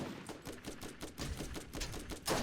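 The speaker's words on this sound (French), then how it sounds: "Qui me tire dessus?" Rapid bursts of gunfire from the Borderlands video game, cracking in quick irregular volleys over a busy background with no talk.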